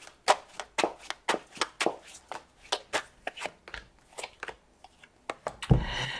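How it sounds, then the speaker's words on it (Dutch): Tarot cards being shuffled by hand, a rapid series of crisp, close riffling bursts in an uneven rhythm, about a dozen distinct strokes, ending with a soft thump; no talking. "Van de kaarten schudden om te kijken wat deze week voor jou gaat brengen."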